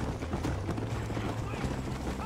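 Horse hooves clip-clop at a steady rhythm in the video game Red Dead Redemption, close and continuous under a talking player.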